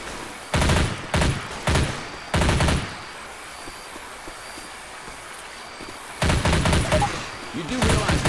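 Rapid automatic gunfire in a shooting video game, several loud bursts at the start and again near the end, with quieter ambience between.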